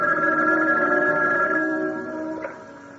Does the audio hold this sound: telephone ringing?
yes